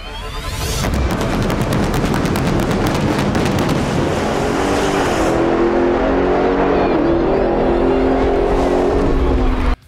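A Dodge Challenger Hellcat muscle car roars loudly, opening with sharp rapid crackling pops before settling into a deep, sustained engine drone that stays close and powerful, then cuts off abruptly at the end.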